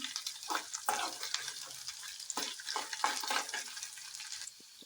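Chopped onion sizzles in hot oil with curry leaves and chillies, a steady close frying hiss broken by repeated scraping stirs of a utensil against the pan.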